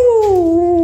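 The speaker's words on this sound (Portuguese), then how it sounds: "E tem um desgramado ali latindo no portão." A single dog gives a short, close, tonal yelp or howl-like bark at the gate, loud and alone for under a second.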